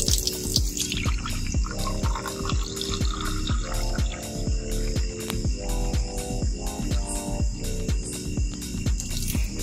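River water for drinking is poured into a glass in a steady run of rhythmic glugs and trickles, close and continuous, with the pitch shifting as the glass fills.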